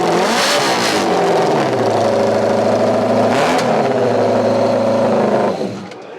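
A classic sprint motorcycle engine, partly built around 1980 and recently finished, revs hard and very noisily in a show hall, rising and falling before cutting off near the end.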